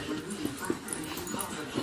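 A dog whimpers and gives a few short, soft yips at home, faint and intermittent beneath ongoing talk.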